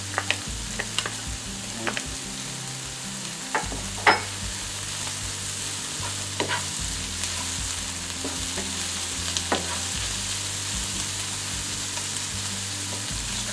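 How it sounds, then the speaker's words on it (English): Garlic fries in a pan for a broccoli and ham quiche filling, a steady close sizzle broken by occasional sharp clicks of a utensil stirring, with one brief spoken word. "now we're going to add the garlic"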